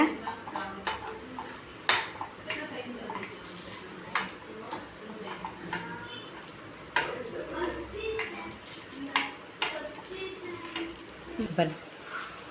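Wheat kuzhi paniyaram sizzles in a pan as the pieces are turned, with soft sizzling under repeated clinks and taps of a utensil against metal and a person talking now and then.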